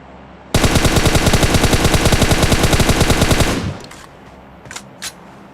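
Gunfire in the mobile battle royale game PUBG Mobile: a loud, sustained burst of rapid automatic fire that runs for about three seconds and stops abruptly, leaving a quieter background with a couple of faint knocks.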